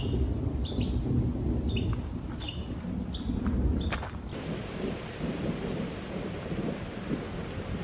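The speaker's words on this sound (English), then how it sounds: "That's constant. Constant thunder." Low thunder rumbles continuously under steady rain at a plantation in Charleston, with a few bird chirps early on before the rain and rumble fill everything.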